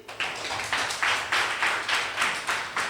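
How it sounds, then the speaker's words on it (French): An audience claps in rhythmic unison, a steady beat of bursts roughly every third of a second, moderately distant and fairly soft, with no voices over it. "Bravo, nous allons l'applaudir."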